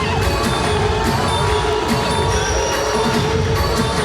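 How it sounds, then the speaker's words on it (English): A large arena crowd at a BAMMA 11 MMA fight roars and cheers continuously, a dense loud wall of voices with whoops throughout. "Well, listen to that crowd."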